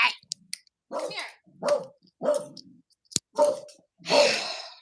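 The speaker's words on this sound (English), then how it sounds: "You have a dog Sorry, named Kitty" A dog barks in a string of about six short, loud bursts spaced roughly half a second apart, close by, with a sharp click between two of them.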